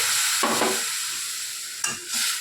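Water poured into a pan of sizzling fish roe and raw mango sour curry, a steady bright sizzle broken by two short gurgling bursts as the liquid hits the hot oil.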